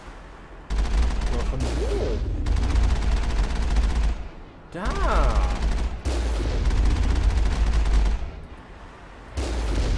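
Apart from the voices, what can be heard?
gunfire in the video game Mass Effect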